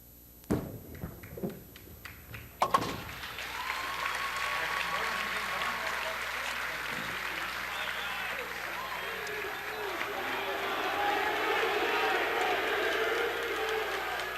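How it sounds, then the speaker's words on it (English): Crowd at a 1996 PBA bowling tournament of champions applauding and cheering steadily, a few thuds and taps at the start, then a sustained wash of clapping with voices mixed in. "Crowd's getting in it, Parts"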